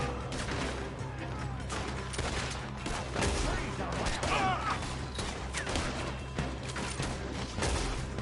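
Gunfire in the Western video game Red Dead Redemption 2 crackles in a dense, continuous barrage of shots through the whole stretch, with game score and ambient noise beneath and no clear talk over it.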